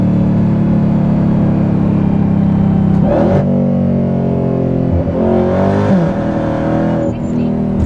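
A widebody Dodge Hellcat Redeye accelerates hard with its wheels struggling for traction. The engine drone is loud and close, with sharp revving surges around the middle and near the end.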